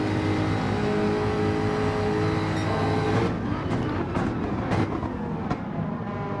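Race cars in Gran Turismo 7 during a BTCC replica league race, engines droning loudly and continuously at high revs, with a gear change and rising and falling engine notes in the later seconds.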